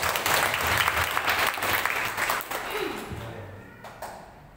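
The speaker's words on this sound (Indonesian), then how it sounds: "Kalau ini tepuk tangan yang mulia." A burst of applause from a church congregation during a Sunday service, loud at first and then fading away over a few seconds, with a voice coming in near the end.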